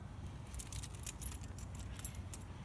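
Keys jangling near a fat-tyre electric bike, a close, continuous metallic rattle of bright clinks that lasts throughout with no talking.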